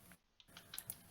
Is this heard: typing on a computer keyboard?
yes